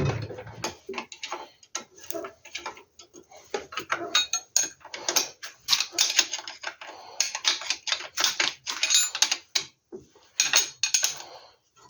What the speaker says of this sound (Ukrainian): болти вже ставлю трошки, щоб плотніше стояло і можна було закрутити